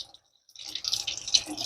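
Grapes washed under a running kitchen tap, a steady hiss of flowing water with spattering drips starting after a short silence, close and fairly loud, no voices.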